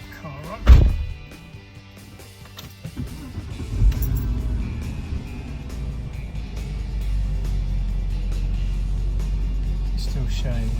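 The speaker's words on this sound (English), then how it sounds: "Let's turn the car on." A Porsche Boxster 986 engine cranks and catches after a sharp clunk, then settles into a steady, close, low idle rumble that carries on to the end.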